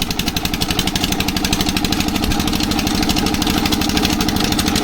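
A borewell machine's motor engine runs steadily with a rapid, throbbing pulse, loud and close, continuing without pause.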